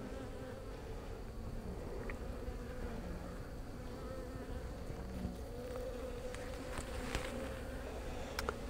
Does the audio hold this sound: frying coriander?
no